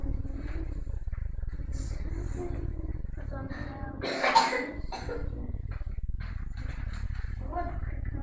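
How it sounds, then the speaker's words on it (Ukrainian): A child gives a single sharp cough in the middle of a recorded school lesson, set among ongoing speech and quiet room noise. "Прикривати ротик, коли чхаєш, кашляєш."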